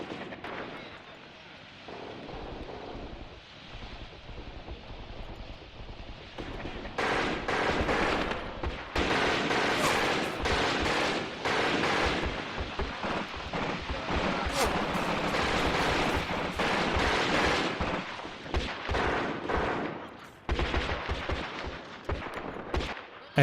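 Machine gun fire in a Graviteam wartime battle game: dense rattling bursts and heavy artillery-like blasts, loud and almost continuous after a quieter opening, with speech underneath.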